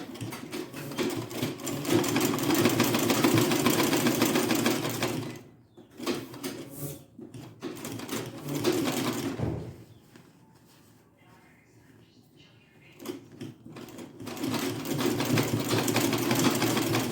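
A sewing machine runs stitches on a ruffle bonnet in a loud, steady hum, with a voice over it. The run stops briefly, resumes in spurts, goes quiet, then starts up again near the end.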